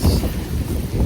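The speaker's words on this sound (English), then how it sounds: "it's really windy" A short stretch of loud, blustery wind roaring across the microphone with a deep rumble, outdoors on public hunting land.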